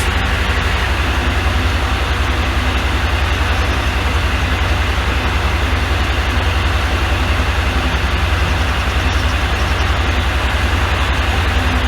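An antique Corley sawmill engine running steadily at idle, a loud, dense low drone with an even rumbling pulse that holds constant throughout with no talk.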